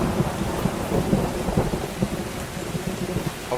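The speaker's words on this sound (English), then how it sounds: "I wish you'd get rid of this rain." Heavy rain pours steadily with rolling thunder rumbling underneath, a dense, loud storm wash with no voices.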